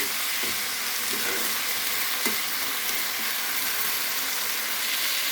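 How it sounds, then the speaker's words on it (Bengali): Vegetables sizzle and fry steadily in a pan with no onion or garlic, a constant close crackling hiss with a few light stirring knocks and no talking. "এইটা আপনি এইভাবে নরম নরম করে ভেজে নিলাম"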